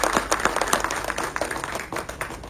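Energetic audience clapping at a film promotion event, a lively patter of many hands with distinct close claps at a fairly loud level, holding steady throughout.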